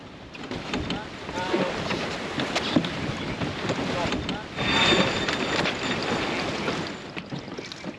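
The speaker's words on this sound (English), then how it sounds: "now we're tacking with another tack straight afterwards" A racing sailboat tacks in strong wind, with heavy wind buffeting and steady rushing water close by and a brief surge of spray and flapping midway.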